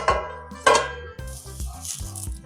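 Metal and glass clatter of a lid being set over a bhakri roasting on a tawa on a medium gas flame, a few sharp clinks and knocks with a faint sizzle between them.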